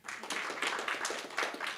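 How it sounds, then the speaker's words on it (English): An audience at a professional accountants' townhall claps for itself, giving fairly quiet scattered applause in which individual hand claps are distinct. "can you clap for yourselves?"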